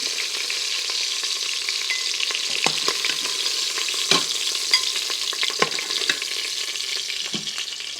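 Chicken strips sear in an Instant Pot with a constant close sizzle and crackle, broken by scattered sharper pops and clicks across eight seconds, with no voices.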